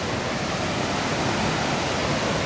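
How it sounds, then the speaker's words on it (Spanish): Spray and roar of the Velo de Novias waterfall at El Chiflón, Chiapas, with mist drifting like rain; a steady, loud, dense rush fills the scene alone, with no voices. "Es la brisa de la cascada que nos llega."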